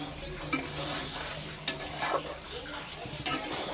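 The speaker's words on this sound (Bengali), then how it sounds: "এবার একটু জল অ্যাড করা হচ্ছে" Water goes into a pan of frying fish coated in spices, giving a moderate sizzle with utensil scrapes and a few sharp metallic clinks against the pan.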